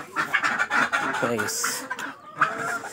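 Chickens cluck briefly in a backyard flock kept on homemade feed, a short burst of fowl calls mixed in with someone speaking nearby.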